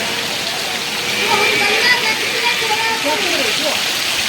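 Heavy, wind-driven rain keeps up a constant hiss throughout, while someone talks over it in a voice partly buried by the downpour.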